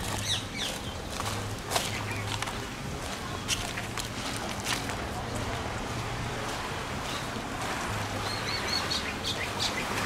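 Tropical myna birds call in scattered chirps over a steady background hum of an outdoor tourist spot, with brief voices and movement nearby.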